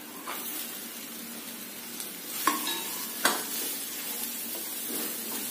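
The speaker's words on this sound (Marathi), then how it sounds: "तेलातच आता गाजर आपल्याला शिजू द्यायचे." Carrot pieces with turmeric stirred in hot oil in a pan, a soft continuous sizzle with a few sharp scraping clinks of the spoon against the vessel.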